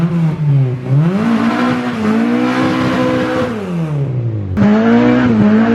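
A turbocharged car engine revs and pulls hard, its pitch climbing and falling as it accelerates, loud and close.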